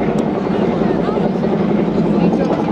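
A Chinook helicopter at a seaside air show in Clacton-on-Sea produces a continuous heavy rotor rumble and throbbing drone, loud and steady throughout, under a commentator talking over a public address.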